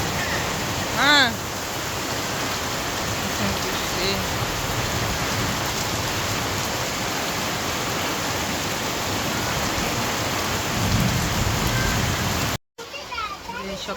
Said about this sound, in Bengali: সকাল আজকে খুব ভোরে থেকে এই বৃষ্টি শুরু হয়েছে